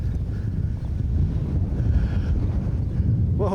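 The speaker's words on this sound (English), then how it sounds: "it is really windy today" Strong outdoor wind buffeting a small wireless lavalier microphone, a loud continuous low rumble and roar with no pauses throughout.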